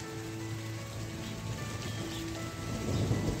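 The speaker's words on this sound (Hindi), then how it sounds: "काफ़ी देर तक बारिश हो रही है अभी भी कंटिन्यू चली रही है" Heavy rain falling steadily in a village during a storm, with a low rumble of thunder swelling toward the end, no voices.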